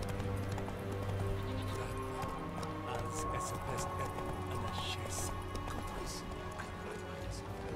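A horse trotting in The Witcher 3: a steady, fairly faint clip-clop of hooves runs throughout beneath a game soundscape, with a voice speaking over it.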